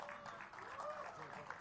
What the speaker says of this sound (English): May we request the applause and cheers to keep roaring.